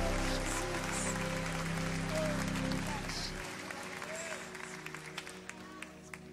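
A worship crowd at a live gospel concert in Curitiba applauds, a broad wash of clapping over a sustained low musical drone that cuts out midway, leaving the clapping with fainter scattered sounds.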